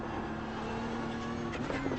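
A race car on the Nürburgring Nordschleife drones loudly and steadily from inside the cockpit, its engine note shifting near the end as it drops to second gear.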